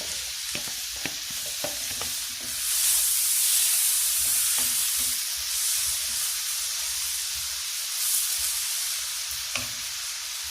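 Onion frying in oil in a pan, a steady sizzle and hiss under scattered stirring knocks and scrapes, heard close without talk.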